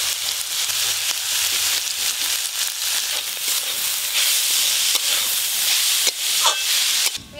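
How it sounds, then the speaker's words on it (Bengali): Radish greens fry in oil with poppy seeds and onion, giving a steady, moderately loud sizzle and hiss from the pan throughout, with a few soft clinks near the end and no voices. "পেঁয়াজ পোস্ত দিয়ে মূলো শাক ভাজাটাও হয়ে গেল"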